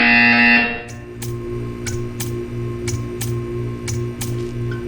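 A buzzer in the video game Portal 2 sounds as a series of about seven short, sharp broadband pulses spaced roughly half a second apart, over a steady low electronic hum, following a brief tonal sound at the start.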